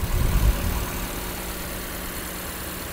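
A Lexus RX350h hybrid engine idles with a low, steady hum, slightly rougher and louder at first before settling into an even drone.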